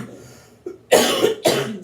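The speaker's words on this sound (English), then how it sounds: "I can't get rid of this cough. So, excuse the coughing." Several harsh coughs from one person with asthma, still recovering from an illness: a short faint cough, then two loud, close bursts in quick succession, each with a rough, raspy onset.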